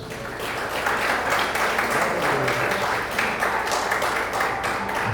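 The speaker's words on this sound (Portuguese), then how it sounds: "Diga glória a Deus e aplauda o Senhor Jesus" A church congregation applauding, a dense continuous patter of many hands clapping at moderate distance, steady and sustained without a clear break.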